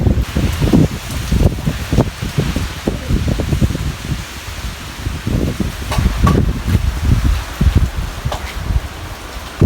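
Rain falls on a tea estate hillside in the Hatale hills, a steady close hiss with irregular louder patters and gusty rustling throughout, with no talking.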